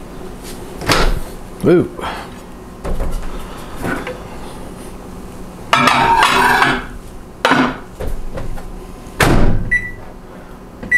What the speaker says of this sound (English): And I'm just going to stick them in the microwave for a minute.